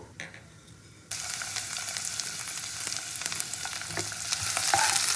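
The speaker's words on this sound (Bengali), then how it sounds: "কালো জিরেটা একটু ভাজা ভাজা হলে প্রথমে আমি পেঁয়াজ কুচিটা দিয়ে দেবো।" Chopped onion dropped into a wok of hot oil with nigella seeds, a sudden jump into a steady, bright sizzle that grows slightly louder, with faint stirring.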